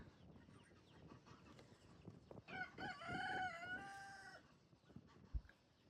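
Chickens cluck and a rooster crows in a coop in a courtyard in the morning amid a soft, busy background; the birds sound moderately close but fairly quiet overall.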